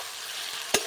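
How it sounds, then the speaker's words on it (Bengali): Potatoes fry with ginger, chilli and tomato purée in a pan, a soft continuous sizzle with one sharp scrape of a spoon as the mixture is stirred. "এরপর ভালো করে নাড়তে থাকবো, তাহলে মশলাটাও কষানো হয়ে যাবে"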